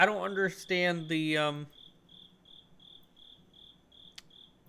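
A single cricket chirps in short, evenly spaced pulses, faint and steady, following a few seconds of a voice at the start.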